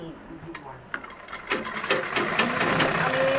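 A sewing machine stitches a blouse, starting with a few separate clicks and then running in a quick, rhythmic mechanical rattle, close by and moderately loud.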